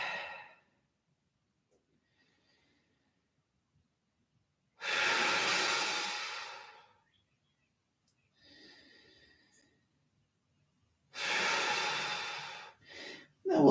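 Slow, deep breathing during a yoga pose, with three long audible breaths spaced several seconds apart and near silence between them, close and clear.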